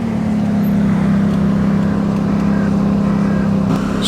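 A classic Austin A30 with an 803cc engine idling at an outdoor car show, a steady, close, low rumbling hum that holds constant throughout, with no speech.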